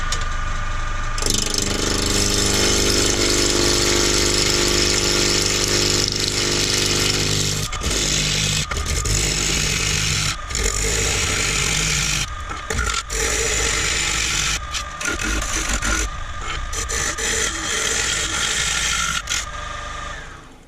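An oak bowl blank spins on a wood lathe at 1500 RPM while a gouge rounds it, giving a loud, steady whirring drone with rough scraping and chattering cuts that stop and restart several times across the passage.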